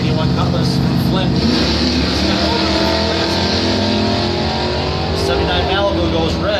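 An 81 Cutlass drag car launches down the strip at a Flint points event finals, its engine roaring loudly and steadily throughout, with an announcer talking over it.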